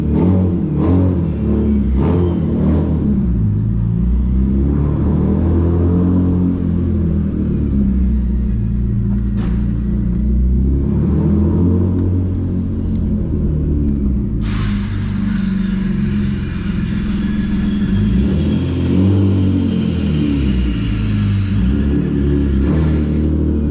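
Manual BMW E36 328i at night, its loud exhaust rumbling and revving through repeated accelerations and gear changes, a steady close engine drone throughout.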